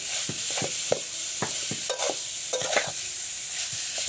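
A spatula scrapes through Barishal-style bharta in a pan in quick, repeated strokes about every half second, close and clear over a constant sizzle.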